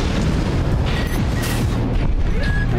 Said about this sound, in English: Left shoulder grenade cannon on this AC fires explosive rounds that cause area damage upon impact